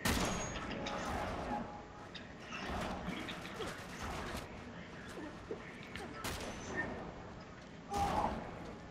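Gunfire in the video game Uncharted 3 during a co-op monastery chapter: scattered sharp shots and short volleys at moderate level over a busy game soundscape, with players talking throughout.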